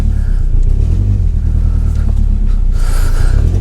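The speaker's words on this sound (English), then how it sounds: "Sounds like it's low compression on one cylinder all of a sudden." A Nissan 240 engine with sudden low compression on one cylinder idles and rumbles unevenly up close, a steady loud drone with a brief rev near the end.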